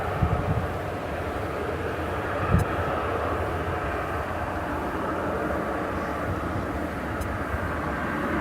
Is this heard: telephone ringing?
no